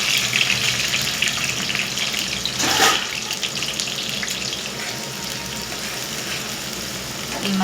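Onions and green chillies sizzle in hot oil in a home kitchen, a continuous close hiss with a brief louder burst partway through, as if stirred.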